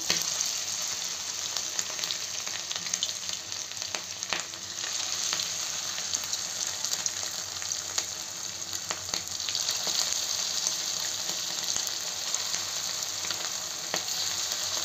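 Chicken pieces for a dry fry sizzle steadily in a hot pan, a dense continuous crackle close up with occasional sharper pops and faint stirring, no voices.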